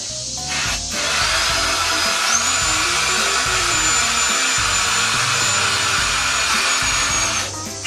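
A power drill drives lath screws into sheet metal for a portable concession sink, a steady loud whirring that runs for several seconds, with a brief start and a rising pitch as the screw seats.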